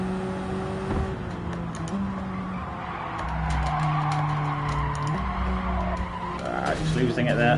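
Tires skidding and squealing as a race car understeers in Gran Turismo 7, a steady screech over the engine drone that grows louder toward the end, with a voice talking over it.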